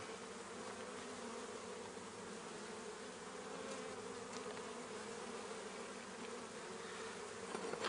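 Honey bees hover and buzz around a nuc hive in a continuous, faint, even drone, with no voices over the steady hum.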